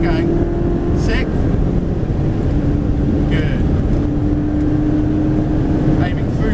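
A Ferrari 360 engine roars loud and steady as the car accelerates through the gears on the Top Gear test track at Dunsfold, a strong continuous drone under a voice.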